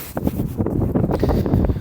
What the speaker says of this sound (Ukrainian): Вітер дує, я з вами розмовляю, не знаю, чи буде чуття, вітер дує так